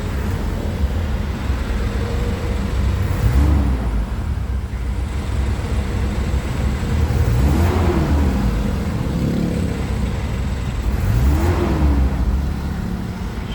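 A Mitsubishi Adventure engine, still somewhat cold, idles loudly and steadily, with a few periodic revs rising and falling, recorded close.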